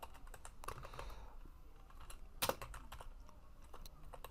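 Someone types a file name on a computer keyboard: soft, irregular clicking keystrokes, close and quiet, with one sharper key press partway through.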